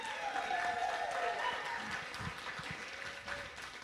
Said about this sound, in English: Can we give a round of applause for everybody waiting in the green room?